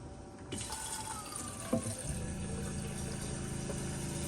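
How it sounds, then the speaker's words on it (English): Water runs from a tap and splashes into a Jetboil Flash cooking pot, a steady close hiss with a sharp clink partway through. "So we can put some water in it."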